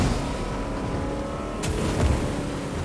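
Motorboat engine from the Fortnite video game, a steady droning motor that swells briefly toward the end, heard alone with no talking.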